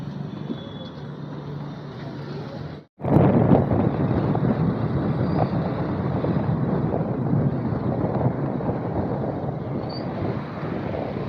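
A motorbike ride on the road to Rajkot, heard as a continuous broadband rush of wind and engine noise that cuts out briefly near the start and then stays steady and loud.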